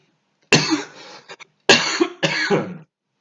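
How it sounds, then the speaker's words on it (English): A person coughs close up in two harsh bursts, the second a double cough, with silence around them. "Big cough."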